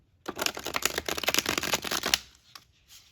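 Rapid riffle-shuffling of a tarot deck, a dense burst of crisp flutters lasting about two seconds, followed by a few soft taps.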